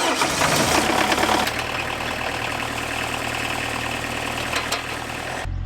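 An old lawn mower engine with an electrical short turns over and catches, then runs rough and steady close by for several seconds before cutting off abruptly.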